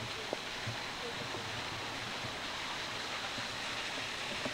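A waterfall gives off a steady, even rushing hiss like broadband noise, constant and fairly faint in the background, with people talking nearby.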